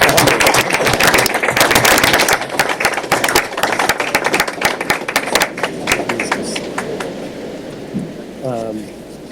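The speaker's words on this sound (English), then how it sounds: "Please give them a final round of applause." Meeting room audience at a county commissioners session claps in a dense burst of applause that thins into scattered claps and fades, with a brief voice near the end.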